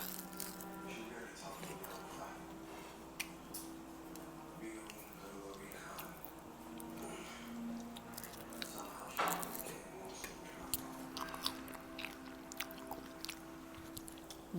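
Crunchy chewing of homemade chicken wings, close and soft, with repeated small crunches and wet mouth sounds at irregular intervals and no talk.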